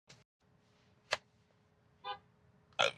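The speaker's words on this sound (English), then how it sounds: "Why are you honking at me?" A car horn honks at a Tesla driving itself early in the morning, with a few short, separate blasts, fairly faint and distant over quiet road noise.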